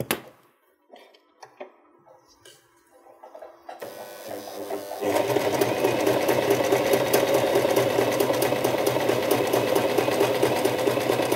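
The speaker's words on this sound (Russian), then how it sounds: "Таким образом прокладываю второй шов." A sewing machine stitches a seam joining a skirt to a wedding dress corset. Quiet handling and clicks come first, then the machine runs in a loud, close, fast steady rattle.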